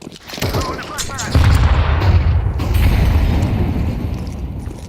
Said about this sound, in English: Throwing a flashbang.